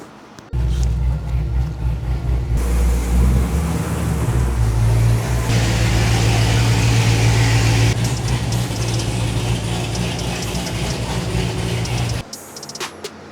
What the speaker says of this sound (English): So let's get this Cadillac on it and let's rip it, see what it'll do.